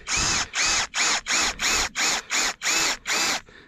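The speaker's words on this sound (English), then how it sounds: "They also say to drill into the south side of the tree is best" A hand drill or brace boring a tap hole into the south side of a black walnut tree on an off-grid homestead, nine steady rhythmic grinding strokes, close and loud, with no talking.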